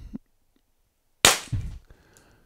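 A Guard Dog Fireball PepperBall launcher fires a single sharp, loud shot with a bright crack and a short tail, set off by silence before it, followed by a smaller thump and some fading handling noise.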